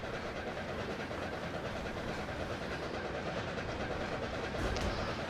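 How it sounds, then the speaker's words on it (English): East Broad Top train rumbling steadily over a small bridge, a continuous close, loud roar of wheels and carriage noise with no voices. "we'll hop on the train here. As you can see, we're passing over our little bridge here."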